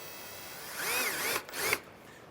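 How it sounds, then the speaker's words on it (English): A power drill with a 1/2-inch bit bores a hole through a 2011 Jeep Wrangler base plate bracket, whining as it rises and falls in pitch and ending in a short burst as the bit bites. "I'm going to use a smaller drill bit to drill a hole, and I'll step it up to this 1/2-inch on both sides"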